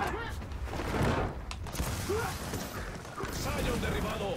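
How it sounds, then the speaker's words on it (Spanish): Gunfire and explosions in the Gears of War 4 Horde mode, with clattering mechanical bursts and impacts running continuously and fairly loud through a chaotic battle mix. "Los tiros."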